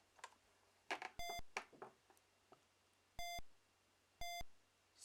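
Beeps from an Amstrad four-in-a-row computer game, heard as a few separate clicks and blips and then three short, loud electronic tones spaced apart, with no talking.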